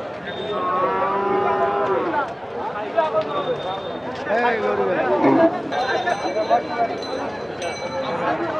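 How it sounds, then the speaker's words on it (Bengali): Cattle at a busy rural weekly cow market in Bangladesh, including fattening-type bulls, low drawn-out moos from several animals near and far over constant crowd chatter, with someone talking close by. "মোটা তাজাকরণ উপযোগী সার গরুগুলো দেখছি।"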